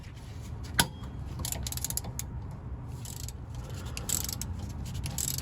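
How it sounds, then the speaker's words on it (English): Hand ratchet working the nut on a sway bar end link of a Chevrolet Trailblazer, giving rapid clicking pawl ticks in bursts with a sharp metallic knock near the start, close and moderately loud over a steady low background. "put it on my top bolt, and then take a ratchet to my bottom bolt"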